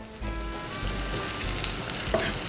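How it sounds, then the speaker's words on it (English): Steady, close sizzling of cod frying in a hot pan, a continuous crackling hiss with no talking. "You want to hear that sizzle."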